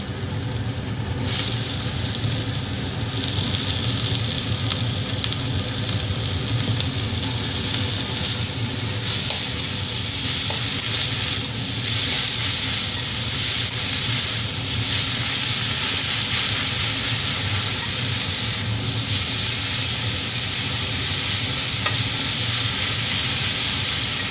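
Eggplant and mustard greens frying together in a pan give a continuous, fairly loud hiss and sizzle that holds steady throughout, with faint stirring and no talking.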